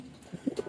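A few low, soft coos from domestic fancy pigeons, a cock and a hen released together, come in a short uneven run of three or four near, quiet calls with no voices.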